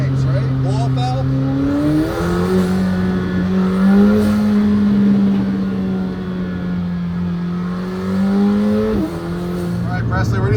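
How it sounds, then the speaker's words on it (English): A Porsche accelerates to road speed, its engine note climbing and holding as a steady drone through the cabin, with voices talking over it nearly throughout. "The noises this thing makes, right? Blow off valve?"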